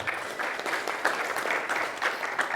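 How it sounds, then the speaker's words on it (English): Audience at a housing-industry town hall panel applauding, a steady dense wash of clapping that holds evenly for the whole stretch with no talk over it. "So let's give them a round of applause."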